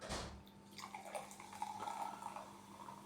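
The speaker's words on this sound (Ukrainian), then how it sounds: "наливаємо." Sparkling Chupa Chups green apple soda poured into a glass, with a close, faint trickle and fizzing drips over about three seconds, alone without talk.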